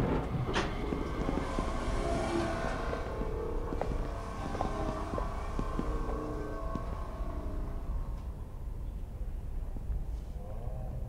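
Train in the video game The Mosaic, a steady continuous rumble with a low mechanical hum and a faint siren-like tone running throughout, fairly loud with no talking.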